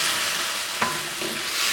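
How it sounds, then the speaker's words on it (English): Eggplant stir-frying in soy and hoisin sauce gives a steady, close sizzle, with a spatula scraping and stirring briefly through it. "I'm going to go ahead and add the sauce in here. Stir this up."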